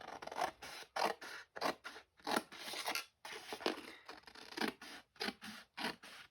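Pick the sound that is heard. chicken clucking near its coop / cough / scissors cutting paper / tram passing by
scissors cutting paper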